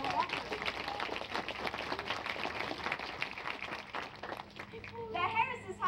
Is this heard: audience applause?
yes